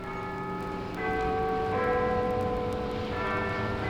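Cathedral church bells ringing in an audio drama, several overlapping tolls with long sustained ringing tones that layer and build, steady and moderately loud with no voices.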